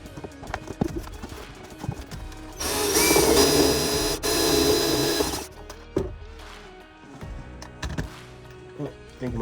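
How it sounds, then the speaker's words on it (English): A power drill bores a hole through a caravan boot to pass a 12 V cable, a close, loud whirring burst lasting about three seconds amid scattered knocks and handling clatter. "I think I might have to drill a bigger hole."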